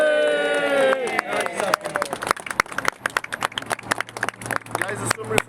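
A small crowd at the opening of a Workers Party office in Rochdale breaks into scattered, uneven clapping following a voice, the claps loose and irregular under chatter and movement.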